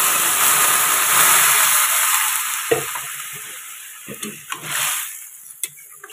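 Small shrimp cooking in a hot pan as water is poured in, a loud hissing sizzle that rises and then fades over several seconds, followed by scattered scrapes and clinks of stirring.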